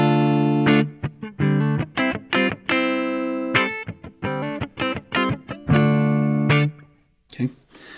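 Clean electric guitar played on the neck pickup through a Fender blackface-style amp simulator, a run of short plucked notes and chords with some held tones, loud and close, followed by a brief burst of noise at the end.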